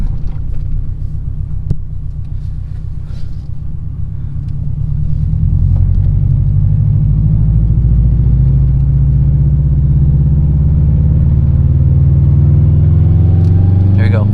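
A 2013 Subaru WRX hatchback rated at 265 horsepower, its turbo engine droning low and steady while driving, the rumble swelling and rising in pitch as the turbo spools up, loud and close from inside the cabin.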